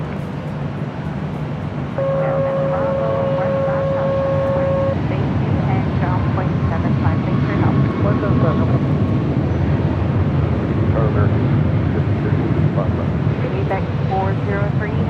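An airliner powers up for takeoff at Los Angeles International Airport, a broad steady jet roar filling the whole stretch at high level, with tonal engine whine and a distorted radio voice layered over it.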